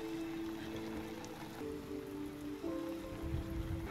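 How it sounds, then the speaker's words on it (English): Rain falls steadily in a film scene, a constant broadband hiss that lasts throughout with a low droning tone underneath, moderately loud and enveloping. "That makes it even worse that it's raining."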